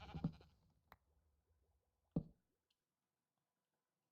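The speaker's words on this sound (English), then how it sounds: "I heard that sheep." A sheep in a video game bleats once, short and fairly close, followed by a few scattered clicks and a second faint bleat-like burst in otherwise quiet surroundings.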